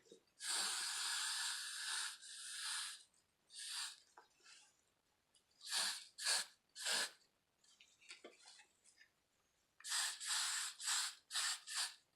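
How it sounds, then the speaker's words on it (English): Several hissing bursts of Got to Be Glue Freeze hair spray onto a wig frontal, some long and some short, close to the mic, separated by quiet pauses. "I am going to take the Got to Be Glue Freeze spray and apply this to the frontal"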